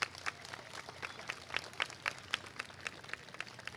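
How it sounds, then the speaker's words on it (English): Students at an elementary school assembly applaud the parents, scattered sharp claps in a loose uneven rhythm, fairly faint and thin rather than a full ovation. "Students, let's give the parents a big round of applause."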